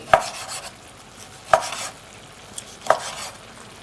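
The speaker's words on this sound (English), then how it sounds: "I'm going to slice my meat up" Knife slicing rump beef on a board, three sharp chops about a second and a half apart with a faint scrape between them, close and alone without talk.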